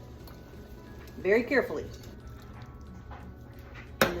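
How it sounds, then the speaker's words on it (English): Boiling water pours into a bowl of strawberry Jello powder, a short gurgling splash lasting about a second, close and moderately loud, with a person speaking quietly around it and a brief knock at the end. "to that, we're going to add 2 cups of boiling water."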